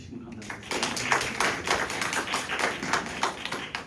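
An audience at a forum on GMO regulation and food security applauds to welcome a speaker, a steady patter of clapping that sounds somewhat sparse and close, lasting a few seconds.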